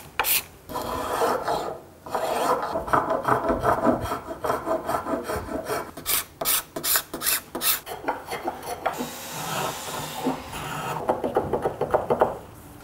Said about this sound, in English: You can come in with a round bottom spokeshave. I'm going to do that to start with and take a very light cut.